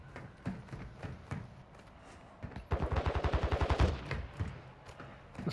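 Gunfire from a nearby fight in Warzone 2: a few scattered shots, then a rapid burst of about a dozen loud, evenly spaced rounds in the middle, followed by more sporadic shots, with no talking.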